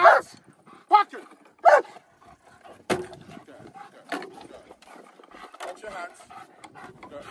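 A German Shepherd barks in three sharp, loud bursts early on, then once more, during protection-work training, with a handler's voice speaking between and after the barks.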